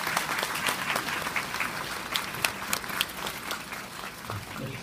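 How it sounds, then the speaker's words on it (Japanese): Steady applause from the audience after a dance offering by geiko at the Setsubun festival at Yasaka Shrine, with dense clapping throughout. "皆様今一度盛大な拍手をよろしくお願いします。"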